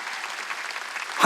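A church congregation at a Wednesday worship service breaks into applause, a steady wash of clapping from many hands that swells at the very end.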